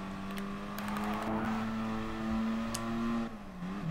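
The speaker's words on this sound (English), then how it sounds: "Ah man, that's me drifting." Car engine in Gran Turismo Sport held at a steady high drone during a drift, with sharp tire squeals and clicks over it, the pitch dipping near the end, no talking.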